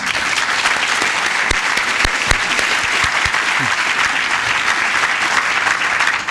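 Sustained audience applause fills a hall at the BFI after an interview, a dense steady clapping from a crowd with a few sharper individual claps standing out, no talking.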